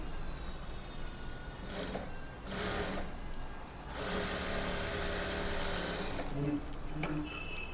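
A sewing machine stitches a silk blouse, its steady mechanical whir running in several loud stretches with brief pauses between them, close by and with no speech over it.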